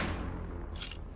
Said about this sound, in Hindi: रॉबर्ट ने गन लोड की और उस क्रिएचर पर डरते हुए चलाई।